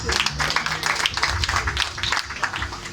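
Church congregation applauding in praise of Jesus Christ, dense continuous clapping with voices mixed in, steady and moderately loud.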